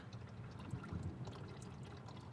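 ATF flowing out of the transmission fill plug on a Subaru BRZ, Scion FR-S or Toyota GT/GR86 during a fluid service, a faint, steady liquid trickle and patter that continues alone for a couple of seconds.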